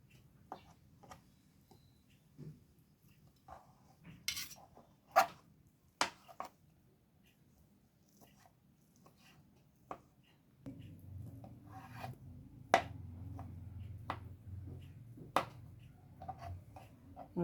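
A knife cuts boiled bottle-gourd dhokli into pieces on a board, giving soft scattered taps and scrapes at irregular intervals, with a low background hum growing in the second half.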